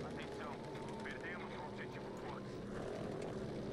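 Propeller airplane in the video game Battlefield V droning steadily as it flies over, a continuous engine roar that stays loud for the whole stretch, with game noise layered around it.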